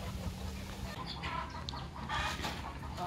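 Farmyard chickens clucking in a rural Vietnamese countryside setting, several soft, irregular clucks over steady outdoor background noise, fairly close and moderate in level.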